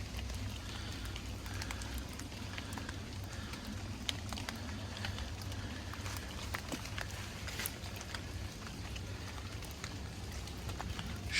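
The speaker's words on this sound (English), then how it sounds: "Still raining." Steady rain patters all around with scattered drops hitting nearby surfaces, a constant wash of sound with no voices.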